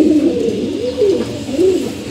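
Pigeons kept in a coop coo close by, a few soft rolling coos repeating in a steady rhythm over the whole stretch, with no voices.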